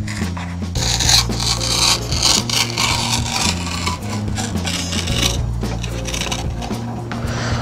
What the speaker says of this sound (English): we're going to carefully peel the old dust cap away.